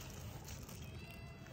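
Pet cats meow close by at home, a brief cat call heard faintly against a low background hum, with no voices over it.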